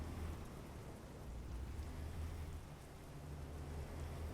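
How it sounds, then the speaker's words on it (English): Rain in the American Truck Simulator driving game, a steady hiss of rainfall layered over a low, constant truck engine rumble, with no voices. "It has started raining."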